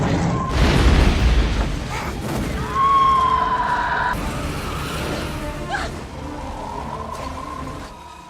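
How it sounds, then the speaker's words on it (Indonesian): A powerful explosion in a film about a giant man-eating Amazon river snake, a house blowing up: a loud deep boom with rumbling debris and crashing that swells again midway and trails off into a long low roar with a tonal whine. "ledakan hebat pun terjadi"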